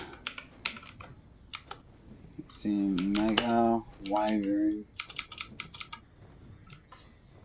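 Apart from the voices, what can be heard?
clicking of a new computer keyboard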